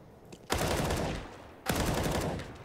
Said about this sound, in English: 2 wallbang bullets connect.